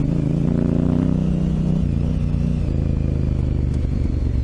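A 2018 Honda Africa Twin ridden over a rocky trail, its engine droning steadily up close, with gear-change pitch shifts and clattering, scraping tire sounds mixed in.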